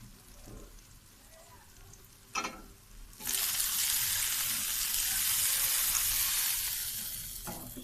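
Spice masala for a rui fish curry hits a hot pan with water added, bursting into a loud, steady sizzle after a few quiet clinks and stirring sounds, then slowly easing off.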